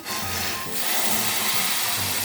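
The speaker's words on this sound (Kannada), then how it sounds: "ನೋಡಿ ಈಗ ಕುದಿಯುತ್ತಿದ್ದ ನೀರು ಇದಕ್ಕೆ ಹಾಕ್ತಾ ಇದ್ದೀನಿ" Boiling water is poured onto roasted semolina for upma, giving a brief, loud rush of steamy hissing and bubbling that stays strong throughout the short moment.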